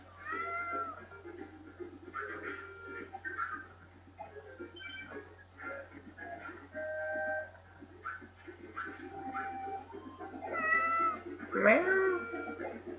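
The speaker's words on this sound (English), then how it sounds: "you don't have to be so noisy" Repeated cat meows and yowls from a video game, some drawn out, sound over a steady low hum, growing louder and more insistent toward the end.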